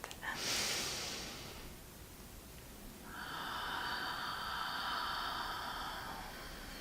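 A deep breath is taken during an energy exercise: a sharp nasal inhale near the start, a pause, then a long, steady airy exhale, close to the microphone with faint background hiss.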